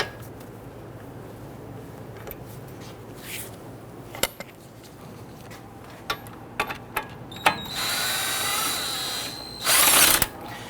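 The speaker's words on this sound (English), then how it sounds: "use some power tools to go ahead and zip those right out" A mechanical ratcheting whir of a power tool spinning out brake bolts on a 2011-2017 Nissan Quest, with a few sharp clicks before two louder sustained bursts near the end.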